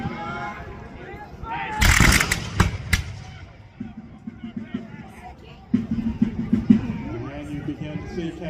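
Artillery and musket fire at a battle reenactment in Greensboro, North Carolina: a loud cluster of sharp blasts early on, then scattered, more distant reports under a narrator's voice and crowd murmur.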